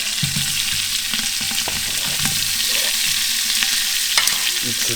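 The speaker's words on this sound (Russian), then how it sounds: "Вот так все обжариваем. Лук должен чуть-чуть пригореть." Coarsely chopped onions and garlic fry in an Afghan kazan, a steady loud sizzle with repeated stirring scrapes and clinks up close, no voices.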